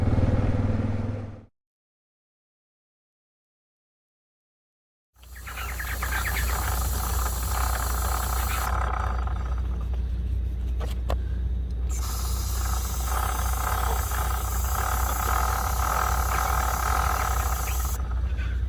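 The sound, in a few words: spraying lube on a Suzuki DR650 motorcycle chain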